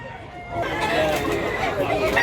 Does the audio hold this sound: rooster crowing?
yes